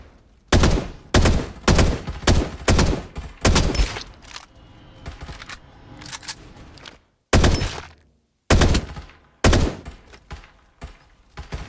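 Heavy gunfire in the battle-royale video game Farlight 84, loud clustered bursts of shots and impacts arriving in irregular volleys with short quiet gaps between them.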